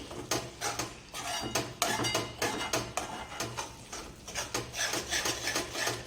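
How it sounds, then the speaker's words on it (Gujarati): Methi besan shaak, fenugreek leaves cooked with gram flour, being stirred in a pan: close, quiet, steady scraping and rubbing of a spoon against the metal with soft clinks in an uneven rhythm, no voices. "એકદમ સારી રીતે હલાવી લઈશું."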